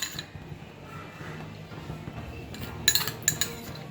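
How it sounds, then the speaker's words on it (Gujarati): A spoon stirs curd into besan chutney in a bowl, with soft scraping and a few sharp metallic clinks near the end, close and alone. "દહીં નાખ્યા બાદ ફરીથી એકવાર એને મિક્સ કરી લઈશું"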